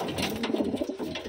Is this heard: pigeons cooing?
yes